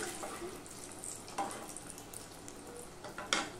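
Papaya koftas fry quietly in hot oil, a soft, steady bubbling sizzle with a few brief crackles and spatters.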